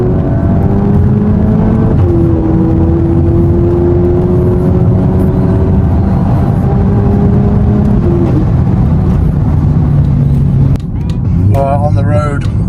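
500+ BHP VW Caddy R cruising on the road, a steady close engine drone with a shift near the end, while someone talks over it.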